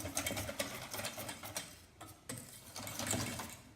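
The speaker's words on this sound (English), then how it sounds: "Give the milk a bit of a whisk and add about half to start" Milk is whisked briskly in a bowl for Sri Lankan egg hopper batter, a close, rapid rhythmic clatter of the whisk that pauses briefly before resuming, with no voices.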